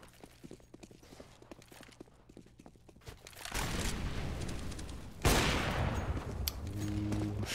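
Gunfire in Counter-Strike during a 99Damage Liga esports match: a sharp loud shot around the midpoint stands out against a dense, continuous wash of game noise, with lighter footstep-like ticks earlier.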